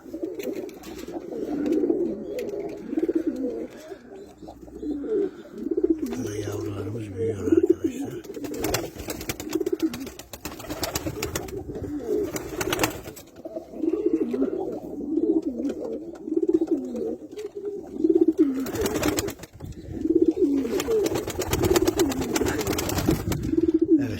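White Istanbul pigeons keep up a steady, throaty cooing close by, rolling and overlapping over a long stretch, with occasional wing flaps and rustling.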